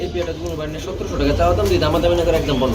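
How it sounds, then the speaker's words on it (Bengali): Teddy pigeons of a Pakistani bloodline cooing in low, rolling murmurs while a person talks over them close by. "হ্যাঁ টেডি কবুতর পাকিস্তানি ব্লাড লাইন"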